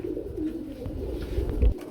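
Low, throaty cooing of short-faced pigeons nearby, a soft continuous burble that swells slightly near the end, with no talking.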